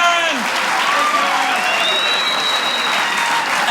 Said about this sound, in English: Big round of applause for Aaron!